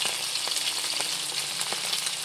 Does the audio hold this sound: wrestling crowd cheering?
no